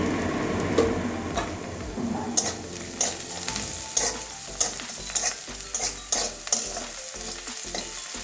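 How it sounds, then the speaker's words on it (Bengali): Onions sizzling in a pan as they fry, broken by repeated scraping stirs of a spatula, close up and fairly quiet, no talking. "পেঁয়াজটা ভালো করে ভেজে নেবো"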